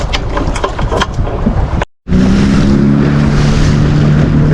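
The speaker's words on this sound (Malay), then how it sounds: "angin kuat, alun padu ya" Strong wind and heavy waves batter a fishing boat at sea, loud rushing splashes and gusts, a brief dropout, then continuing surf noise with a steady boat engine hum underneath.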